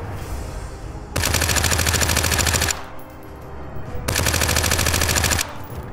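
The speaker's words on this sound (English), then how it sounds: "Somebody's shooting at me, but I don't see where they're at" Automatic gunfire in the video game The Front, two loud sustained bursts of rapid machine-gun fire, each about one and a half seconds long, separated by a brief quieter gap.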